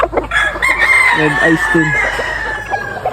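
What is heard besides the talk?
gamecock stag rooster crowing at a farm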